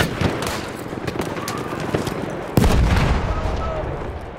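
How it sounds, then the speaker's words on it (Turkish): Bomb explosion in Battlefield 1, a heavy close boom landing amid ongoing battlefield gunfire and distant blasts, with voices talking under the noise. "Bomba atıyorum."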